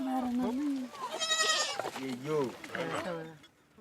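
Several young goats bleat close by in a coop in Samburu land, with overlapping, wavering cries one after another and a few louder calls in the middle.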